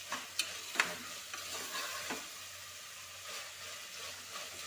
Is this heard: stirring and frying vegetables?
yes